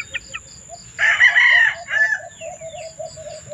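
A giant-type Shamo rooster crows once, loud and close, a drawn-out call with a shorter trailing note, over a steady background hum and faint farm noise.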